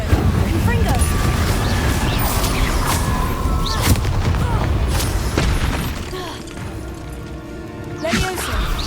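Spell blasts from Confringo and Incendio in Hogwarts Legacy, a run of loud, sharp booms and crackling bursts in quick succession over busy game sound, easing into a quieter tail with a last burst near the end.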